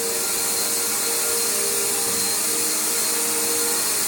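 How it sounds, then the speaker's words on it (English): A Bissell Powerforce Bagged vacuum cleaner running steadily, a loud, close, constant whine and rushing airflow roar with a fixed motor hum, no pauses and no talking. "it's a great vacuum. It's a great vacuum."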